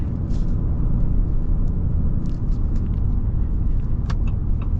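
A 2025 Ram 3500 Limited dually pickup truck cruises along, its engine giving a steady low rumble with road noise throughout, heard from inside the cab with faint light clicks and no talking.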